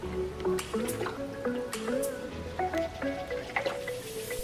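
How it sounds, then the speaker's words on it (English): Water sloshes and gurgles inside a hollow 2003/2004 Mustang Cobra rear spoiler as it is tipped, with hollow dripping, bubbling tones in irregular bursts close by. "if I pick it up you can actually hear the water"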